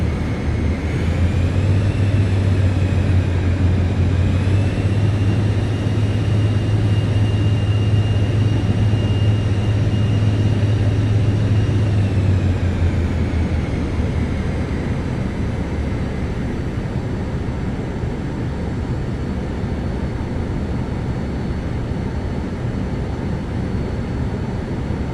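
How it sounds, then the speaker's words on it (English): Steady, loud turbine whine of a Vision Jet in Microsoft Flight Simulator during taxi at Tacoma, with a low drone that shifts in pitch partway through, then settles into a continuous hum. "Like hearing that turbine respond."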